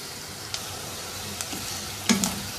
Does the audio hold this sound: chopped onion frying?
yes